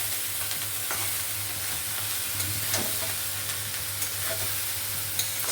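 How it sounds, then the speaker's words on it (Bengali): Cooked pasta stirred and tossed in a hot pan with a constant loud sizzle, punctuated by light clicks and scrapes of a spoon against the pan, with no voices. "এই সমস্ত পাস্তাগুলোকে আমরা এর মধ্যে ঢেলে দিচ্ছি, দিয়ে ভালো করে এটাকে মিক্স করে নিতে হবে।"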